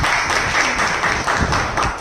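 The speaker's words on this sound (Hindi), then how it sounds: "एक बार उनके सम्मान में शानदार ताली हो।" An audience claps in steady, sustained applause honouring the speakers, a dense wash of many hands filling the room without pause.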